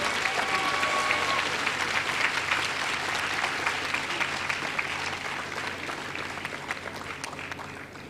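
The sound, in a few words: audience applause at a university session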